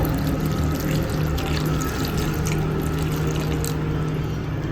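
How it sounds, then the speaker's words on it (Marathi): Water pours steadily into a pot of cooking dal and brinjal, a continuous splashing rush at close range that holds even throughout. "ह्याच्यामध्ये आपण पाणी घालूया"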